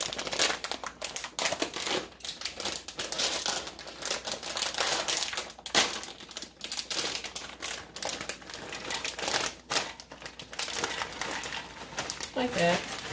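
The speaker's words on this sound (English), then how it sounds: "I'm going to add a bag of pecans." A bag of pecans pours into a skillet of melted butter, giving dense crinkling and rattling of nuts on the pan for a salad. Talking runs over it in places.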